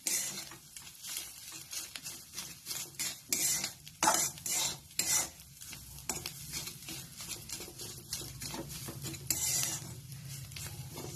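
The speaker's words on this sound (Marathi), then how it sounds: "गॅस मोठा ठेवलेला आहे मी. 2-3 मिनिटं चांगलं हलवून घ्यायचं." A vegetable tikki mixture of mixed vegetables and soaked poha is stirred in a pan over a high flame, with repeated scraping strokes and utensil clinks over a faint sizzle, the rhythm irregular and fairly close.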